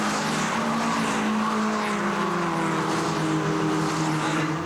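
Renault 8 Gordini race cars in a Gordini cup race roar past at full throttle, their loud engines sustained and overlapping, with engine notes rising and falling across the field.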